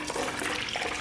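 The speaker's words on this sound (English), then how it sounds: "I'm gonna pour some water in here." Water is poured into a container, a brief steady splashing and trickling gurgle close by, heard alone.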